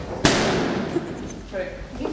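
A single sharp, loud balloon pop close by, followed by a short ringing decay, with people talking afterward.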